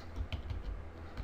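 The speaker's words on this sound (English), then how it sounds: "I'm going to type that in here." Typing on a computer keyboard while entering contact details into a form, a steady run of close, clicky keystrokes with no talking.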